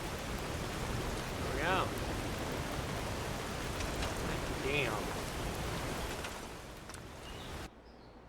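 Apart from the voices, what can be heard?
rain in a video game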